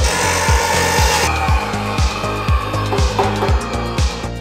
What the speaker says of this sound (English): When our chop saw comes down, that looks pretty good.